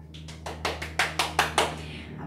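Young children in a preschool classroom clap their hands together in a quick, roughly even series of about eight sharp, close claps lasting around two seconds, with a low steady hum underneath.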